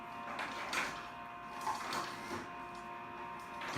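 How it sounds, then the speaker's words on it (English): A household ice maker goes off, giving a faint mechanical whirring and grinding with soft periodic swells and a steady tonal hum, heard alone at low volume. "The sound is our ice maker going off."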